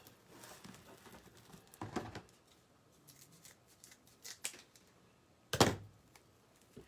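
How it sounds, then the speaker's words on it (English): Scissors cut through burlap in a few sparse, quiet snips and crunches, one sharper cut standing out near the end against a low room background. "I don't like the scissors, it hurts my hands."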